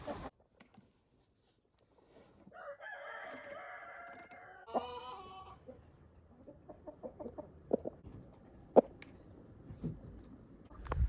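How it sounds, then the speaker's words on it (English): A rooster crows once, a loud drawn-out call, followed by softer clucking and scattered farmyard noises nearby. "That's our rooster Rocket."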